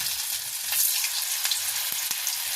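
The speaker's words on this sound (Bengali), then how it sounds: "তো এবার তেল গরম হয়ে গেছে, আমি আস্তে আস্তে এক একটা করে তেলে ছেড়ে দিচ্ছি পিসগুলোকে।" Rohu fish pieces slid one by one into hot white oil for chilli fish, giving a soft, even hiss of frying with a few faint crackles, quiet and steady with no speech.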